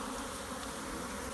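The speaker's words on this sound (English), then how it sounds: "Here you have bees." Honey bees buzz at an open hive whose brood cells have convex lids, a dense, continuous, close drone with no pauses and no voices.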